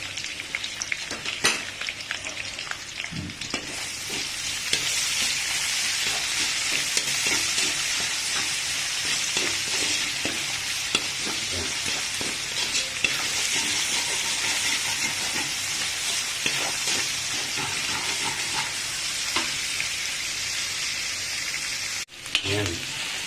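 Garlic and onion sizzle in hot oil in a pan, a steady bright crackle and hiss with occasional scraping strokes of stirring, close and continuous, briefly interrupted near the end.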